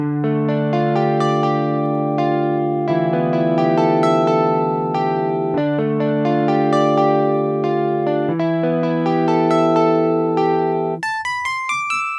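A sampled instrument with fuzz distortion plays sustained, buzzy notes and chords, loud and continuous, ending on a few higher notes.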